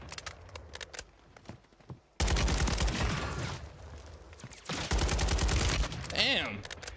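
Loud bursts of automatic gunfire in the battle-royale shooter Warzone, rapid rattling volleys after a quieter stretch of scattered shots and movement, pausing briefly before another sustained burst.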